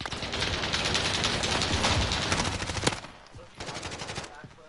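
Rapid automatic gunfire and shots in a Call of Duty match played at a university intramural event, dense, loud and continuous for about three seconds, then lighter bursts, with players talking faintly underneath.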